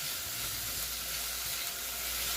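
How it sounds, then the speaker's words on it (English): Ham fries in a pan with a steady, close, even sizzle of hot fat, constant hiss with no speech. "So I'm just going to fry this a little bit."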